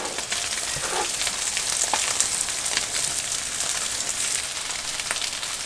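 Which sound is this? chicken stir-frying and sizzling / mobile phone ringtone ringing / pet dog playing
chicken stir-frying and sizzling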